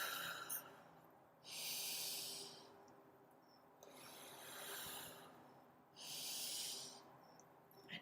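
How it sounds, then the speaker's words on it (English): Three slow, deep breaths come close to the microphone during a calm meditation. The inhales and exhales are soft, airy rushes with gaps of quiet between them. "Big breath in, big breath out."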